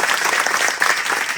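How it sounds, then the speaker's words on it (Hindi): Loud, dense crowd applause at a village booth rally in Matabari, Tripura, thanking Modi, continuous close clapping from many people throughout. "मैं एक बार जोरदार ताली से मोदी जी का थैंक्स करें।"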